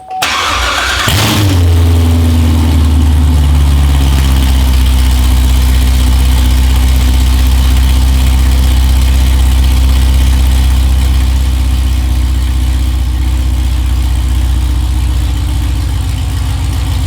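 A Corvette C7 fitted with straight American Racing headers cranks and fires after a second, then settles into a loud, deep, rumbling idle that stays steady and close for the rest of the clip.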